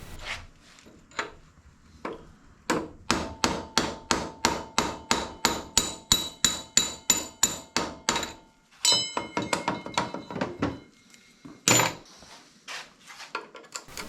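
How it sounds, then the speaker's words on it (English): Sharp metallic hammer blows strike a drift to drive out the rear axle of a 1981 Harley-Davidson FXS-80 Lowrider, a fast regular series of about twenty ringing hits, then a pause and more scattered, irregular strikes, close and alone. "So I have to use a drift kind of to take that axle out"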